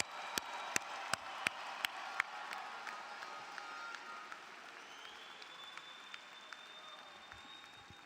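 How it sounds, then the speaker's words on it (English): A large crowd at a university commencement applauds steadily at a distance, with a few sharp nearby claps at the start and a faint whistle joining midway. "let's give a huge round of applause to all these graduates"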